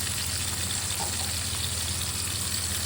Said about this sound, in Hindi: तो चने फ्राई करने के लिए हमने हाफ प्याज लिया है, एक अदद हमने लिया है टमाटर।